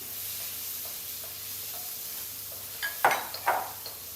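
One small diced onion frying in a pan, a soft steady sizzle with light tapping, then louder scraping and stirring strokes toward the end.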